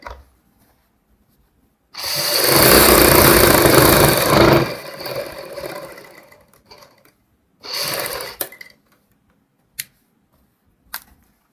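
A sewing machine stitches a belt onto a readymade saree with pleats, running in a loud two-second burst, then a shorter run, followed by a few sharp clicks and pauses, with no one talking.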